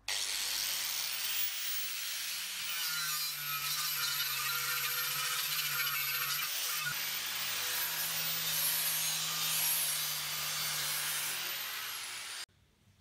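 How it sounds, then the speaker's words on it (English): A cut line being scribed on a propane cylinder on a stand: a steady, close scraping rub with a hissy edge that runs almost unbroken for about twelve seconds before stopping abruptly. "I'm just going back over my line before I cut, just so that it's easy to see"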